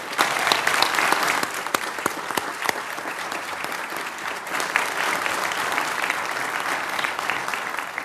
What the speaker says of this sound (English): You can go ahead and give them an applause now.